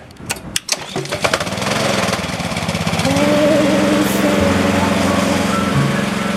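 An engine-driven pressure sprayer starts with a few sharp clatters, then settles into a loud, steady motor drone while blasting heavy dirt off a sedan outdoors in a backyard, with a shift in engine tone partway through.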